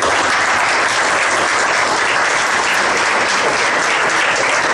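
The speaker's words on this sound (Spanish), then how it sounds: "Le damos un aplauso." Audience applause in a municipal council session approving a 2015 budget, a loud continuous wash of clapping throughout, dense and distorted with no distinct individual claps.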